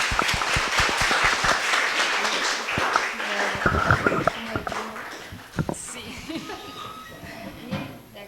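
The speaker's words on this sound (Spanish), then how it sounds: "Un aplauso." Applause at an academic event, a burst of scattered clapping from a modest audience that thins out over several seconds, with voices talking over and after it.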